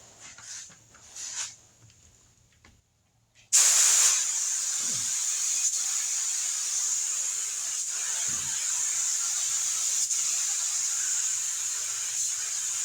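A spray gun paints a Toyota Tacoma with a sudden loud, steady hiss that starts after a few quiet seconds of faint shop noise. The hiss runs unbroken and close, with small knocks underneath.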